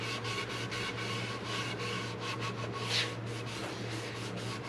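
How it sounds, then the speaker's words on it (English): Epoxy being wiped by hand off a guitar body, a soft continuous rubbing and cloth-on-wood friction with short repeated strokes over a steady low workshop hum, close up and moderately quiet. "I wipe it off"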